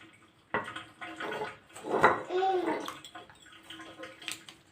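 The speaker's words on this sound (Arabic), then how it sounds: "انا حطيت الميه اهو" Water is poured into a tahini salad: a splashing, gurgling pour with a brief louder burst in the middle, heard close up over faint background noise.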